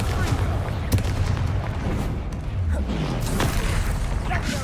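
The Confringo fire spell cast in the video game Hogwarts Legacy, heard as dense, rumbling blasts and booms layered over a constant roar of combat noise, with several sharper bursts standing out.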